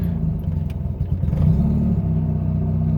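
A 1985 GSL-SE car engine running rough after starting, struggling to hold its idle: a loud, steady low rumble with clattering and uneven surges, close by with no talking.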